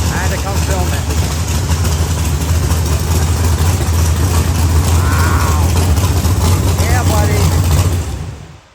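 Race car engine idling at a Mecum car auction in Kissimmee, Florida, a steady heavy low rumble that runs loud and continuous for about eight seconds before cutting off, with crowd chatter and voices mixed in.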